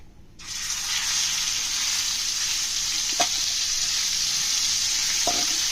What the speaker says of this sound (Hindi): देखिए बटर गर्म हो चुका है। जो कीमा है हमारा ये डाल देंगे।